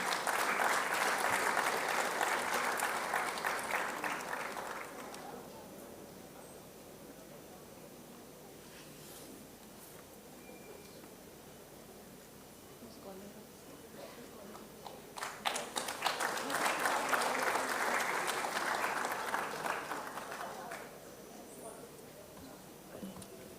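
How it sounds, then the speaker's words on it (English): An audience applauds at the 19th Foundation Day ceremony of KiiT International School, with two strong bursts of clapping separated by a quieter stretch of scattered claps. "A big round of applause, ladies and gentlemen."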